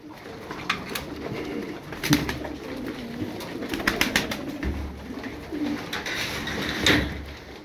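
Several tumbler pigeons coo in low, rolling murmurs close by, with wing flutters and scattered rustling clicks throughout.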